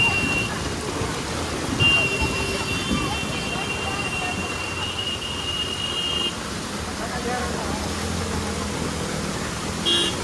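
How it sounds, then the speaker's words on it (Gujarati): Steady heavy rain pours over Pasodara village streets where floodwater has stalled vehicles, a constant broadband wash with a faint tone passing through and voices talking underneath. "તમે જોઈ શકો છો સતત અહીંયા પાણી પડતું છે ભાઈ."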